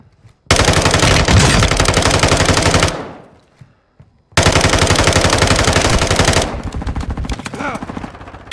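Automatic gunfire in Call of Duty Warzone: two long, loud sustained bursts of rapid machine-gun fire, the first trailing off, followed by quieter scattered shots.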